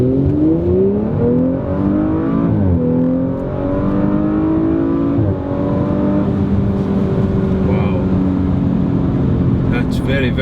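Audi RS5 accelerating hard: a loud, close engine note climbs steadily in pitch, drops sharply at each gear change, then climbs again through several shifts, with a voice talking briefly over it.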